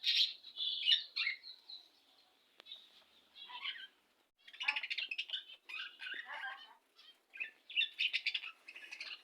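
Budgerigars chirp and call in bursts of bright, rapid tweets, fairly close and moderately quiet, with short pauses between flurries and no talking.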